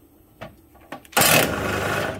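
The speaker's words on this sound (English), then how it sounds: "I'm going to take the one bolt out of this side here." A brief whirring burst of a power tool removing a bolt from a car steering rack during a steering rack bushing upgrade, preceded by a couple of faint clicks, close and fairly loud.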